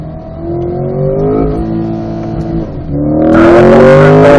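A Chevrolet C8 Corvette drives on a race track, its engine droning close in steady gear, pitch climbing before shifting, then surging louder with a harder, rising roar as it accelerates.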